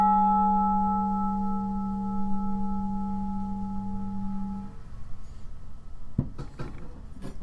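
A replacement saw blade, played as a musical instrument, sounds a steady ringing tone with overtones for several seconds before it fades out. A few soft knocks and handling noises follow.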